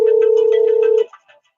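Outgoing phone call ringback tone, a steady continuous ring lasting about a second before cutting off, followed by faint brief sounds.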